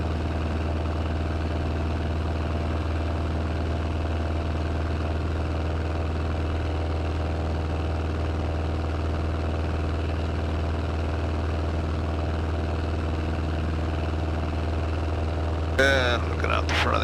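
A small airplane engine drones steadily in flight over mountain creeks in Yellowstone country, a constant loud cabin hum with a low, even tone that fills the whole stretch, with a brief rustle near the end.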